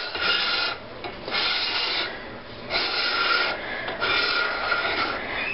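Low carb sandwich bread is worked loose from a bread machine pan, giving scraping, rasping rubs in several bursts with short pauses, close by and fairly quiet, no voices.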